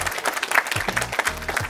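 Audience applause after a speaker at a community event invites the room to clap: a short, steady burst of many hands clapping, moderately loud and without speech.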